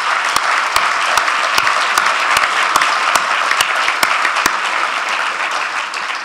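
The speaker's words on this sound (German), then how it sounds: "einen herzlichen Applaus an unsere Experten hier oben auf dem Podium" Applause from an audience at a panel discussion fills the space, dense steady clapping with a few sharper claps standing out, sustained throughout.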